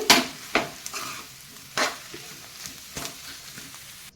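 Boiled potatoes stirred into aloo palya frying in a pan, with several loud close scrapes and clanks of a spoon against the pan over a soft low sizzle.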